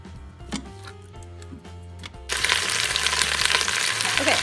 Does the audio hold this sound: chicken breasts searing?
yes